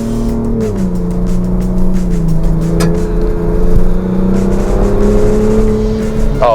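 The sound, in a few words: Ford Bronco Raptor accelerating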